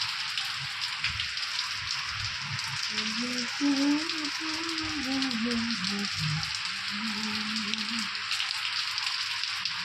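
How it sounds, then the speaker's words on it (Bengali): Heavy rain pours down in a dense, steady hiss on surfaces, while a voice speaks briefly over it midway through. "এক ঘন্টা হয়ে গেল বৃষ্টি হয়েই যাচ্ছে হয়েই যাচ্ছে"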